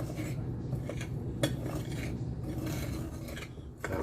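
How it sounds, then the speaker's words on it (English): A metal spoon stirring sesame seeds in a dish, giving scraping, clinking strokes against the bowl with a few sharper taps, close and fairly loud, no voices. "Using a spoon, I'm just going to stir this up."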